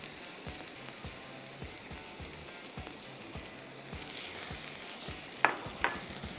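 Onion sizzles in olive oil in a pan with a constant soft crackle and fine popping, then two brief scraping stirs near the end, close by and fairly quiet, with no talking.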